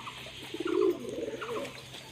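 A male pigeon coos in a pet bird pen, a throaty burst followed by a softer rolling call, close and clear with no talk over it.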